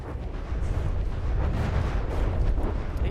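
A torpedo strikes a ship in a naval battle video game, producing a continuous, heavy rumbling blast that rolls on for several seconds without a break.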